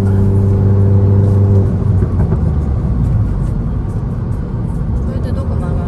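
A 2012 Mini Cooper Coupe John Cooper Works in sport mode accelerates with a loud, close engine whir and rumble that climbs in pitch, while people talk inside the car.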